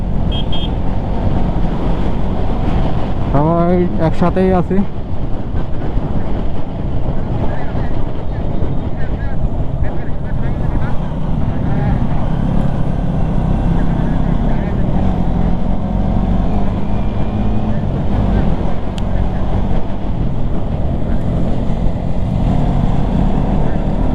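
Motorbike ride from Paisakhali toward Dim Pahar in the Bandarban hills at night: a steady low engine rumble under heavy wind buffeting lasts throughout, with people talking over it.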